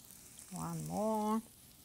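Farmer cheese patties fry in a pan with a faint, steady sizzle, while a voice briefly hums over it in the middle.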